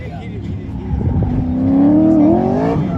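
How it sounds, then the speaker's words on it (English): A car engine revs and climbs in pitch nearby on an autocross course, loud and sustained, with a steady rising whine under the roar. "that car sounds good out there"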